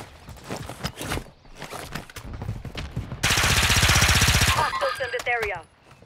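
Gunfire in a Resurgence video game: a dense, loud burst of rapid shots cuts in after scattered footsteps and movement noise, then gives way to brief mechanical clatter.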